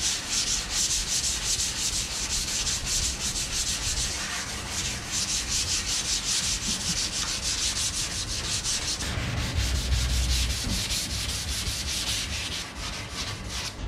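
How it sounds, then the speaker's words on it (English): Car body filler is sanded by hand with 320 grit sandpaper in a home garage, making a close, steady rasping rub in repeated strokes with a short pause partway through. "we're gonna hit it up with 320, and it's gonna be much easier to sand"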